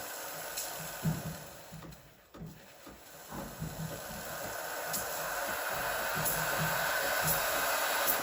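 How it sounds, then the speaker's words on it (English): A Breville Barista Express BES870 steam wand hisses while its pump runs, a soft, steady rushing that swells toward the end, with faint pulsing ticks and light clicks over it and no voices. "you turn on the steamer, you wait 15 seconds or so, and then once you see you hear the pump pulsate"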